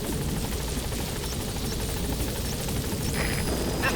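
A helicopter in Metal Gear Solid V: The Phantom Pain arrives with a steady, loud rotor drone that stays constant throughout, accompanied by a few short electronic beeps toward the end.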